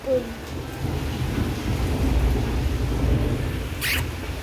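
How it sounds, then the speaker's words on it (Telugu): Steady heavy rain roars throughout, with a dull rumble underneath and a brief sharp crackle near the end. "సో ఎంత వర్షం పడుతుంది చూడండి. వర్షం పడుతుంది"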